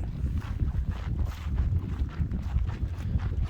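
Steady low rumbling wind buffeting outdoors at the Painted Hills, continuous and fairly loud throughout, with no voices.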